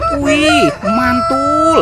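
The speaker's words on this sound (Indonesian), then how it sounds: "ini ada ayam berkokok" A toy rooster gives a loud electronic cock-a-doodle-doo, three drawn-out crowing calls in a row, with a person briefly exclaiming over it.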